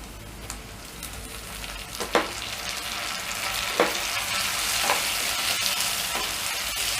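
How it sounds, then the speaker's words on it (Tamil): Steady sizzling of tomatoes sautéing in a hot pan for fish curry, with occasional sharp clicks and scrapes of stirring over a continuous frying hiss. "தக்காளி நல்லா வதங்கி வரணும்"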